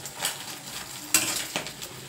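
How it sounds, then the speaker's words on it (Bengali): An egg frying in a pan makes a close, continuous sizzle, broken by a few sharp utensil scrapes and clinks. "ছেলের জন্য ডিম ভাজতে আসলাম"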